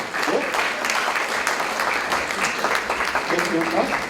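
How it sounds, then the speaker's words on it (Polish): Clapping from an audience at a commemorative-day prize ceremony fills the room, a busy patter of many hands with a voice speaking over it. "Wielkie brawa"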